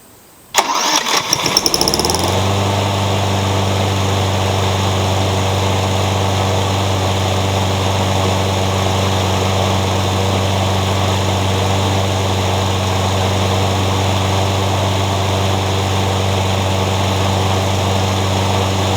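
Craftsman lawn mower engine, hot-wired, cranks with a few rough bursts and then catches, settling into a loud, steady, close idle drone that runs on without a break.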